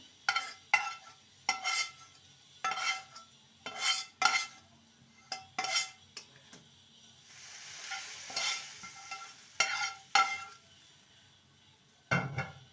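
A spoon scrapes and clinks against a pot while lentil dal is stirred and mixed, in repeated short strokes with a soft sizzle between them and no voices.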